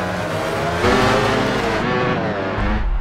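MotoGP racing motorcycle engines scream at high revs, a loud, dense, rising and shifting whine as the bikes pass close by, with no talking over it.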